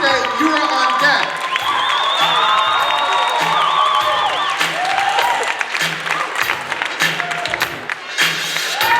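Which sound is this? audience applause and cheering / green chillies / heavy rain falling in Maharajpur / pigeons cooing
audience applause and cheering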